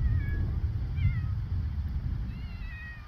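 A cat meows on the street in The Sims 4, with a few short high cries over a steady low rumble of game ambience and background music.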